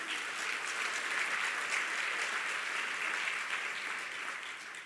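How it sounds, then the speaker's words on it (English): Audience applause at the North West provincial release of the 2024 matric results, a steady even wash of many hands clapping for the full length, moderately distant and alone without talk. "Ladies and gentlemen, give yourselves a round of applause"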